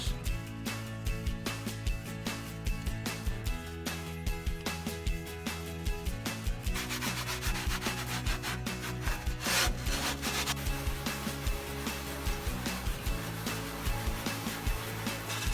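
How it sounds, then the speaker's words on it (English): Caked buildup being scrubbed and scraped off the cookbox of a Weber gas grill, with rapid rhythmic rasping strokes repeating steadily and close, loud and harsh throughout. "go ahead and start scrubbing and scraping"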